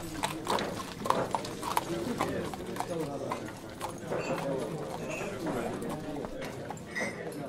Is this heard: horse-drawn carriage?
yes